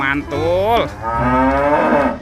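A toy cow gives a loud, close electronic moo in two drawn-out calls, the second longer and wavering, with a brief spoken word near the end.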